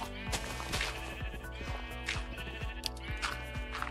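Sheep bleat in Minecraft as a game sound effect, with a run of wavering bleats over a dense bed of game music and rhythmic thumping footsteps, fairly close and steady throughout.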